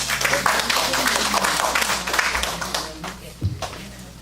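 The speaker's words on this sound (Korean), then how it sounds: "큰 박수로 모시겠습니다" An audience at a research ethics forum claps to welcome a speaker. The applause is a dense, steady patter from a crowd and fades out after about three seconds. A single thump is heard near the end.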